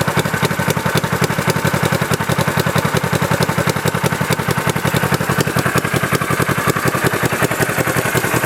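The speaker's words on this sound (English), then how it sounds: "Bike is cold, so it's going to sound a little cold." Cold Honda CB450 brat tracker motorcycle engine running at idle, a loud, close, steady rapid popping exhaust rhythm with a clattery mechanical edge, alone without talk throughout.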